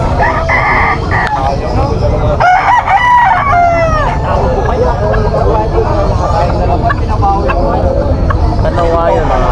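Roosters crowing repeatedly amid clucking fowl at a busy Malabon pet market in the Philippines, loud and close, set against a steady crowd babble and chatter of buyers and sellers.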